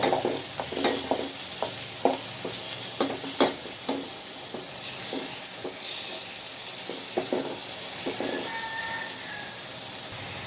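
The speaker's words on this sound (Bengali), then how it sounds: "এখন আমি এটা ভালোভাবে মশলা একটু কষায় নেব" A spice paste for a dried fish curry stir-fries in a pan with a constant hissing sizzle, broken by repeated clacks and scrapes of the spoon. A faint bird call sounds in the background.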